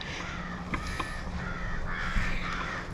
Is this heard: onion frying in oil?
no